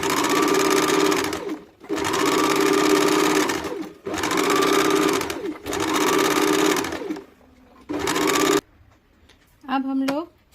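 A sewing machine stitching a deep-neck kurti runs in several fast, steady bursts of rapid needle chatter, close and loud, separated by short pauses, with a brief voice speaking at the very end.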